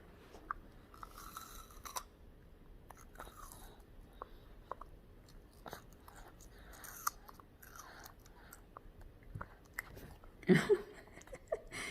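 A dog chews watermelon with soft, sparse, moist clicks and crunches at close range and low volume. A short louder burst comes near the end.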